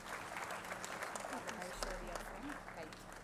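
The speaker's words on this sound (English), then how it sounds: "Let's get them a big round of applause" Audience applause at an AI event in Kakinada, dense continuous clapping from a crowd, with a speaker's voice partly audible over it.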